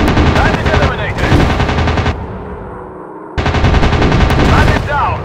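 Rapid machine-gun bursts from fighter planes in a WW2 aerial dogfight video game over England, two loud sustained volleys separated by a brief lull of engine drone, with radio-style voice chatter mixed in.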